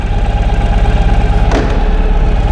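A 2013 Ural Adventure Patrol sidecar motorcycle engine runs in third and fourth gear with a loud, close, pulsing low rumble and a brief mechanical clunk partway through, no voices.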